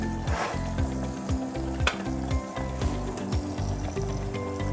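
Eggs sizzle steadily as they set in a hot pan, a close, continuous crackling hiss with soft rhythmic pulses and occasional sharper pops throughout.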